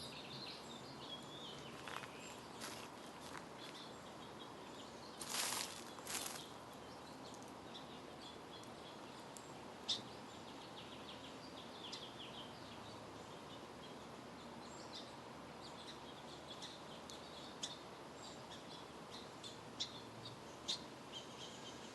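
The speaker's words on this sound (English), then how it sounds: "I'm actually going to give you a moment with the birds and the wind" Birds chirp and call outdoors over a soft background wash of wind through the trees, with scattered brief calls rising above the quiet, distant ambience.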